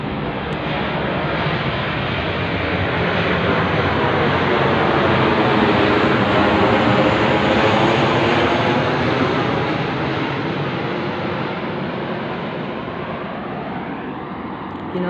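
Jet aircraft on patrol flying overhead, a loud, continuous broadband roar that swells slightly toward the middle and holds steady for the whole stretch, with no voices.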